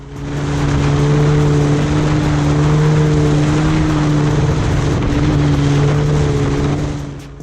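Motorcycle being ridden hard through traffic, a loud sustained engine drone with steady harmonic tones and slight rises in pitch, close and continuous throughout, with heavy wind rush.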